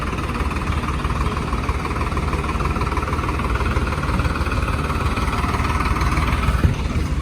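A tractor engine idling nearby, a steady low rumbling drone that holds constant throughout with no talking.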